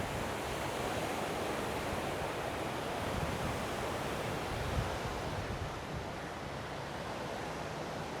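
Sea surf washing onto the beach in front of a 1980s hotel garden in Pattaya, a steady broadband roar of breaking waves with light wind, continuous and fairly close with no voices.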